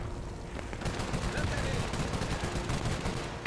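Rockets launching in the World War II strategy game Men of War 2 during a 5v5 match, a steady barrage of dense booming blasts and crackling fire that fills the whole stretch at loud volume.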